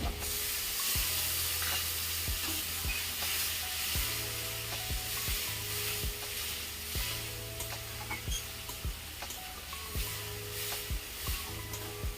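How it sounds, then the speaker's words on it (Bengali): Small water splash into a pan of sizzling Bengali tangra fish curry, a steady loud frying hiss throughout with repeated scrapes and stirring knocks of a spoon against the pan. "এবার আমি দিয়ে দেবো একটু সামান্য একটু জল।"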